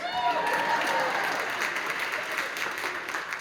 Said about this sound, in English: And then also want to just give another round of applause.